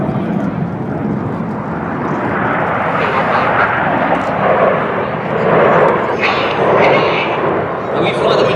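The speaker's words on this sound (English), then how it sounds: "The following pilots input a lot of rudder using their feet to swing the jets out like a pendulum." Red Arrows jets fly in formation at the Flying Legends 2017 airshow, a loud continuous roar of jet engines that swells and fades slightly as the aircraft pass, with no break throughout.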